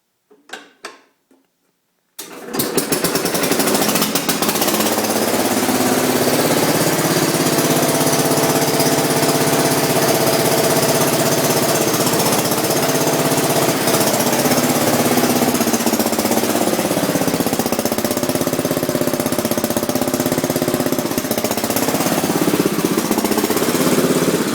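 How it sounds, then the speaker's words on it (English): Allis-Chalmers B110 garden tractor engine cranks briefly, catches almost at once and settles into a loud, steady running roar close by, with no talking over it. "let's give her a start up. She starts pretty good too."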